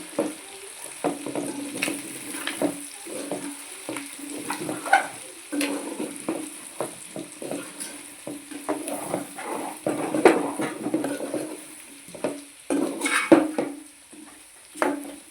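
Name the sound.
stirring country chicken curry in a pan after adding chili powder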